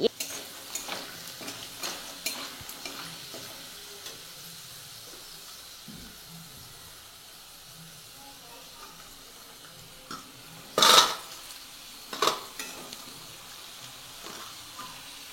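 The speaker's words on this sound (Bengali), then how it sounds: "এটা একটু বেশি তেলে একটু ভাজা ভাজা করতে হয়" Gati kochu (taro) frying in plenty of oil, a low steady sizzle and hiss running throughout, with a couple of sharper crackles and clatters near the end.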